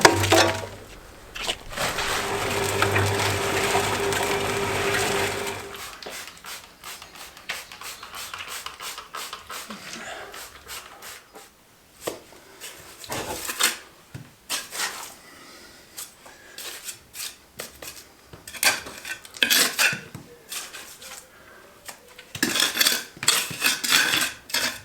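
Lime plaster mortar being mixed, with scraping, clattering and knocking of tools against material and containers, loud and continuous at first, then turning into irregular bursts of clanks and scrapes with quieter gaps.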